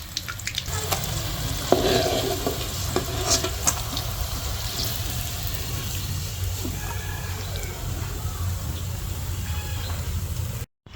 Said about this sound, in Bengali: ভাজা শেষ। এই যে বেগুন ফ্রাই